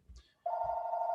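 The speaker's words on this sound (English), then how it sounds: "I can't control that phone." A telephone rings with a loud, sustained electronic tone that starts abruptly after a brief quiet moment and continues steadily without a break.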